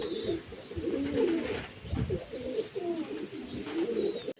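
Several pigeons coo close by in repeated low, rolling calls that overlap, with faint chirps higher up and no talking.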